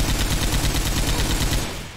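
Light machine gun firing in Left 4 Dead 2, a fast, continuous burst of loud, dense rapid shots that tapers off in the final moment, with no voices.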